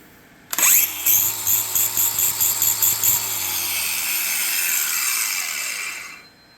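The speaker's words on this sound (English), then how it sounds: "I had a hell of a time trying to find something to cut this square aluminum." A power saw bites into square aluminum tubing for a custom bed cover on a 1975 Chevy C10, cutting in a rapid series of loud, rhythmic pulses, then a sustained screech that winds down as the blade spins to a stop.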